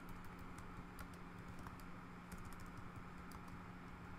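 Typing on a computer keyboard while writing a reply to an online discussion thread: a steady run of light, fast key clicks that stays close and even throughout, with no voices.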